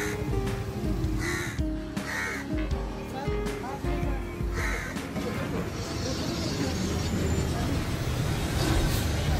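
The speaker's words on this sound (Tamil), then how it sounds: "வனத்துறை பணியாளர்கள் காகத்திடம் பேச்சு கொடுக்கும் பொழுது அதற்கு காகம் பதிலும் பேசுகிறது" A crow perched at a forest checkpoint caws repeatedly in short calls over steady traffic noise from buses and trucks, with voices faintly mixed in.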